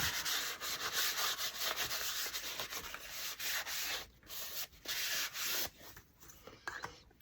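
A cloth wiping finish back over a small wooden paper towel holder made from scraps, a close, continuous rubbing swish with brief pauses, quiet and without talking.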